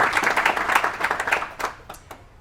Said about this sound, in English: Once again, round of applause to her for that.